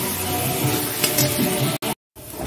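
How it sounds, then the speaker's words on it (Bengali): Whole spices ground at home fry as a paste in a pan, a dense close sizzle with stirring scrapes, then a brief cutoff and short silence before the sizzle returns. "দেখো মশলাটা মোটামুটি ভাজা হয়ে এসছে"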